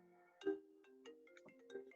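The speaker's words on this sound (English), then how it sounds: "I gotta decline the phone call." A phone ringtone plays a short melodic electronic phrase of a few bright notes, faint and alone, as an incoming call arrives.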